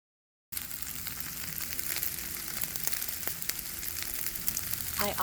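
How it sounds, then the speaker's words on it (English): Shrimp fried rice sizzles on a Blackstone griddle, a close, steady, crackling fry that starts abruptly after a short silence and keeps a dense hiss throughout, with scattered sharper pops and scraping toward the end. "I also pulled my Blackstone out and cooked up some shrimp fried rice and shrimp lo mein"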